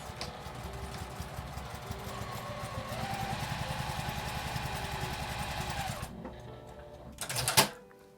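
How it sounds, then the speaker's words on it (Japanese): A sewing machine stitches a seam on a small flap mini pouch with a 1 cm seam allowance, a close rapid mechanical whir that speeds up midway, stops abruptly, then a brief clatter follows. "このように端を合わせて1センチの縫い代で縫います。"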